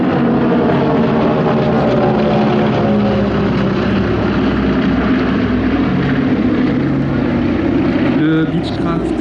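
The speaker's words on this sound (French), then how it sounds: "La motorisation, vous l'avez entendu, des moteurs en étoile, le WAP Junior" Beechcraft Model 18 Twin Beech, a twin radial-engine aircraft, passing at an airshow with a loud, steady, throbbing engine drone that fills the whole stretch, a commentator's voice running underneath.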